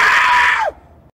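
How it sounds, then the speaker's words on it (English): A single loud, close scream from a teenage scare actor inside a Six Flags Fright Fest haunted maze holds steady, then drops off sharply into a brief low groan. "Teenagers just screaming. Screaming very loud and annoying."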